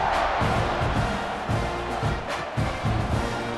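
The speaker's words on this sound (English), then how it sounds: "this crowd is buzzing after that last score" Stadium crowd at a South Carolina versus Texas A&M college football game buzzing after a scoring drive, a broad steady roar of thousands of voices with swelling cheers, loud and continuous throughout.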